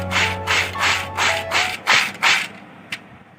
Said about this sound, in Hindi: और ये कितने क्रिस्पी है इसके आप वॉइस भी सुन सकते हैं